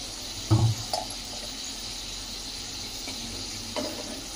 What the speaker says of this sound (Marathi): फ्रेंच फ्राईज कडक झाले पाहिजे मस्त कडक तेलात